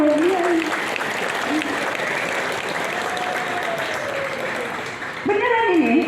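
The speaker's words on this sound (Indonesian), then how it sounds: "Tepuk tangan dulu buat dia." Audience applause at a regent's speech fills the room steadily for several seconds, with a speaking voice carrying over it throughout.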